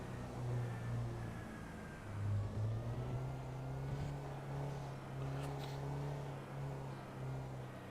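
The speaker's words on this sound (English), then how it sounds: "when this car does get up to speed, I believe it's got a bit of a hybrid engine or just a very noisy electric engine" A video-game car with a noisy electric or hybrid drivetrain picks up speed, its steady whining drone holding and rising slightly, fairly quiet and alone.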